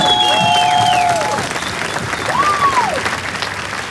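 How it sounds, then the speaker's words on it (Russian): An audience at a water fight tournament breaks into loud, sustained clapping that fills the hall, with crowd noise and a couple of shrill whistle-like tones rising over it. "аплодисменты ему!"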